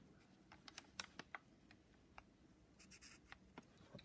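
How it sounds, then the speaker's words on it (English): Soft, quick squeaks and taps of a marker writing a number on a BMW N54 engine part, faint and close, with small scattered clicks. "So here we're gonna write a big number 1 on the top."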